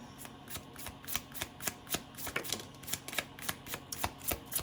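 A deck of small reading cards is shuffled close by in a quick, steady run of crisp riffling bursts, about three per second, with no voices over it.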